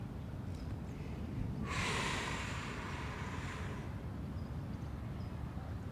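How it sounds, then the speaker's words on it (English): A person breathes deeply during a follow-along stretching routine for stiffness: one long, airy breath swells in the middle, then fades back into a steady low background hum. "Breathing deeply."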